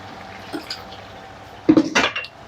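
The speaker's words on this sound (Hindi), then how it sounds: "1 कप तकरीबन हम पानी ऐड करेंगे" Water poured from a cup into a cooking pot of bhindi gosht (okra and meat curry), a brief splashing pour with a clink of the cup against the pot, close and fairly loud after a quiet stretch.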